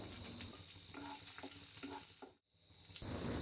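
Dried red chillies and cashews fry in hot oil in a pan, a steady close sizzle with soft scraping stirs, dipping briefly to near silence before the crackle swells back louder.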